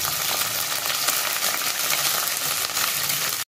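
Onions and curry leaves sizzling in hot oil in a pan, a dense, steady crackling hiss, close and continuous until it cuts off abruptly.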